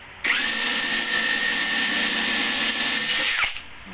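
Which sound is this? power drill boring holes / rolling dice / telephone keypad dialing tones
power drill boring holes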